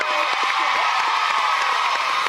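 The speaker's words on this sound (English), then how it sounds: "England rounders, a round of applause" A game-show studio crowd claps and cheers loudly and steadily, with scattered whoops and shouts mixed into the dense applause.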